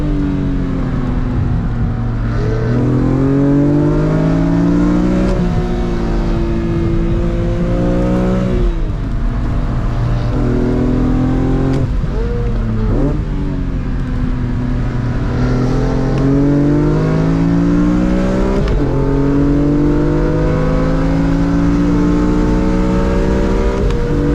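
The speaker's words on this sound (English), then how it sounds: "I'm going to put a little clip here of keeping up with an E92 M3, a DCT nonetheless, in a straight line." BMW Z4 M accelerating hard on a race track alongside an E92 M3 DCT down the straight, a loud steady engine roar climbing through the gears with repeated upshift drops, close and continuous.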